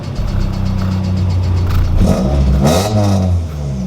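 A project car's engine fires up and settles into a steady, slightly raspy idle with a revving swell midway, loud and close throughout with no talk over it.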